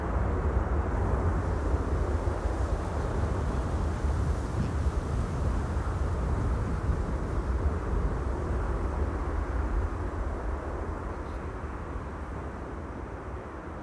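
Airliner touching down at Amsterdam Schiphol with thrust reversers deployed, a loud, steady broadband roar that holds for the whole stretch and eases slightly toward the end, with no voices over it.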